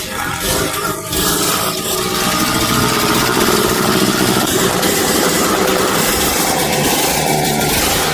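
A restored 1980s Xingfu 250 motorcycle engine idles after a carburetor adjustment. It gives a loud, steady, dense mechanical rumble that runs unbroken throughout, close up, with no talk over it.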